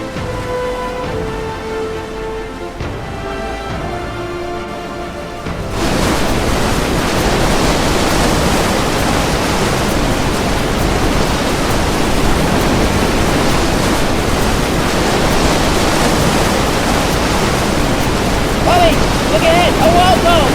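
A high, fast river rushing in a broad, steady roar that cuts in abruptly after a few seconds of quieter sound and keeps going loud and unbroken, with faint voices briefly audible near the end.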